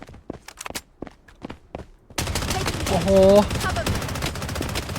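Sparse clicks and footsteps, then a burst of dense rapid gunfire with a brief exclamation from a voice, in the battle royale video game Blood Strike.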